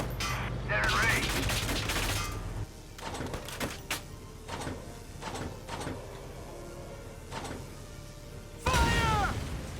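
Enemy gunfire in Valkyria Chronicles 4 cracks out in a loud volley, followed by a series of separate sharp shots spaced irregularly, with another heavy burst near the end.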